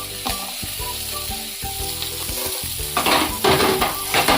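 Raisins, cashews and raw mango sizzle and fry in a pan for a traditional chutney, with steady close hissing, soft stirring scrapes and a louder burst of crackling in the final second, no talking.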